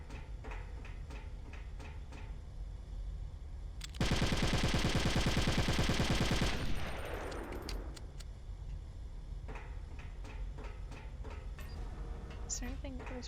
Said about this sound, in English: Guess I can shoot the guns.